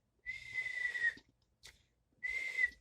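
A person whistles in imitation of a cartoon sound effect: two sustained high whistles separated by a brief chirp, quiet and close with no other sound.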